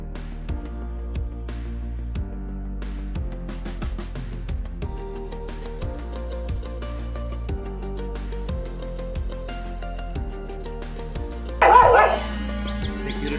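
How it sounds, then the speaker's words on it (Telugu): A farm's security dog barks at a Rajahmundry-area plot, its yaps coming in a steady run of short calls over a continuous background, with a louder, sharper burst near the end. "సెక్యూరిటీ పరంగా కూడా కుక్క ఉంటుంది ఇక్కడ"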